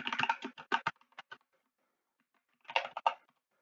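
An admin password is typed on a computer keyboard for a Windows Server 2022 virtual machine, a quick burst of close, crisp keystrokes, a pause, then a few more taps.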